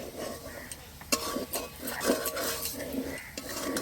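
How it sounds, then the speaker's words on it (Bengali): Whole dry chillies, whole garam masala and cumin fry in a pan, a quiet sizzle broken by a spatula's clinks and scrapes as the spices are stirred close by. "এবার ভালো করে ভেজে নেব।"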